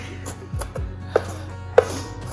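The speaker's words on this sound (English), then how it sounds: "That's actually all the onion that I'm gonna cut up" A knife cuts through a strong onion on a board, making a few sharp, separate chops spaced under soft background music.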